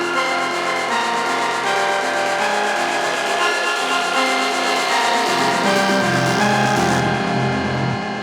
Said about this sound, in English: You can see here the washout effect from the riser knob here.